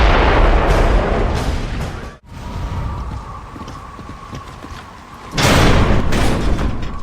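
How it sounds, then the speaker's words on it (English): Mortar fire in Gears of War: Judgment, with heavy booming blasts and a sharp crack, followed by a rumbling lull and another loud roaring surge of explosions near the end, with no voices. "Mortars! The grubs are gonna flatten that house if we don't stop them!"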